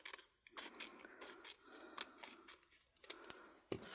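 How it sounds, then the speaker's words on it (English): Sharp scissor snips trimming a UV DTF transfer sheet, a series of close, crisp cuts in uneven bursts with short pauses, louder at the end. "I am going to trim it down just a little bit more."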